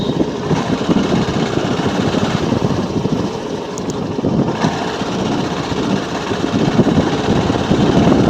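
A motorbike engine runs with a steady, close, low hum, mixed with wind buffeting against the microphone and no clear pauses.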